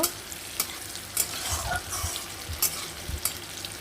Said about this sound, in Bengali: রসুনটা খুব সুন্দর করে ভেজে নিতে হবে